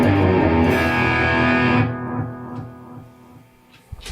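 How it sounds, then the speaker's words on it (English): An electric guitar played through a NuX pedalboard delay into an amplifier rings out with distorted chords, then decays into fading delay repeats, ending with a couple of faint taps. "We'll fire up the amplifier. So you can hear the delay."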